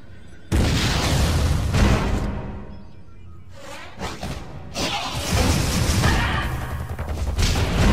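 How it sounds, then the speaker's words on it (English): In Metroid Other M, a missile whooshes out and explodes with a loud boom, followed by rumbling crashes and further heavy impacts, near and dense with no talk. "Why not say hello with a missile?"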